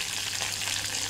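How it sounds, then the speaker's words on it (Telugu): Onion and green chilli fry in a kadai over a tempering of mustard seeds, cumin, dried red chilli, curry leaves and asafoetida, making a continuous dense sizzle, close and even, with no voices. "ఉల్లిపాయ, పచ్చిమిర్చి వేసి వేయించుకోవాలి."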